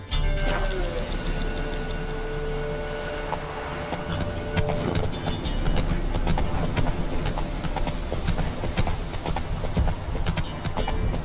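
Horse hooves clip-clopping at a steady gallop in The Witcher 3, rhythmic thuds running continuously over game music and ambient layers, with occasional bridle or tack jingles.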